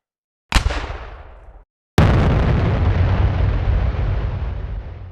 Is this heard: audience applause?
no